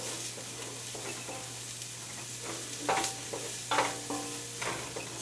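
Garlic fries gently in a pan, giving a soft, steady sizzle under a low hum, with a few light stirring scrapes and utensil taps.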